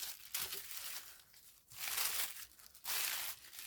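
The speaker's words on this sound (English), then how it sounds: "So I have tissue paper for that one." Tissue paper crinkles and rustles in bursts while painted rocks are wrapped for a memorial package, with three louder rushes of crackling separated by quieter handling, close and without talk.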